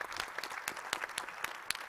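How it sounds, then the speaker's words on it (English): Scattered applause from a conference audience on a main stage, fairly quiet, with individual sharp claps standing out from a softer steady patter. "applause for that."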